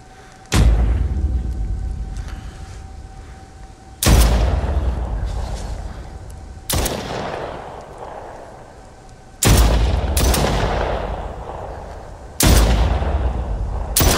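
Shotgun blasts in the VR shooter The Brookhaven Experiment, five heavy booming shots spaced a few seconds apart, each with a long decaying tail, close and loud.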